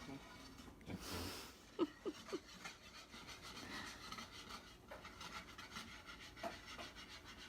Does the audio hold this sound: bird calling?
no